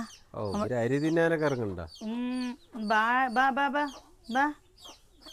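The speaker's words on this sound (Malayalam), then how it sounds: "നമ്മുടെ പുതിയ കോഴിക്കുട്ടികളെ കണ്ട" A hen clucks among newly hatched chicks, giving several drawn-out, tonal calls close by in separate bursts with short pauses between them.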